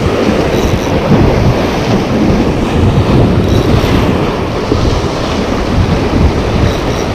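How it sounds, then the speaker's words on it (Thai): Strong sea wind buffets the microphone at the shore during squid fishing, producing a loud, continuous rumbling roar that stays close and overwhelming for the whole stretch, with no talk heard. "ถ้าเสียงลมแรงก็ขออภัยด้วยนะครับเพราะว่าลมค่อนข้างแรง ฝั่งนี้ลมแรงมาก"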